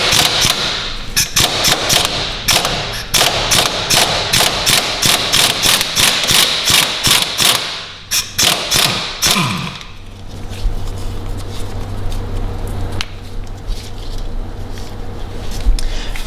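Ratcheting wrench on the front suspension strut nut of a 2008-2021 Dodge Grand Caravan, with rapid close metallic clicks in dense bursts, then a looser turning noise and a steady low hum from the garage.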